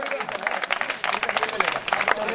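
A crowd at a court match claps in a dense, continuous patter of many hands, fairly close, with voices mixed in underneath.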